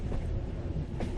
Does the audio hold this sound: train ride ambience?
yes